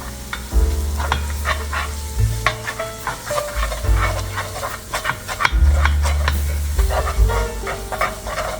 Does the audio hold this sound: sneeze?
no